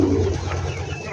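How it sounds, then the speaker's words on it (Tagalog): A pigeon coos nearby in a short, low, soft burble, heard alone against faint background noise. "isa sa maganda nating kalapate, oh, nakita niyo naman"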